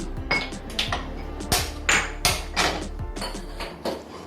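A metal kadai is set down on the stove top, giving a string of sharp clanks and knocks that arrive at irregular intervals, close by, with no talking.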